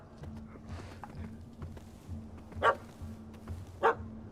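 A puppy in The Witcher 3 barks twice in short, sharp yelps over a low, steady ambient hum, each bark standing out clearly and close against the quiet game backdrop.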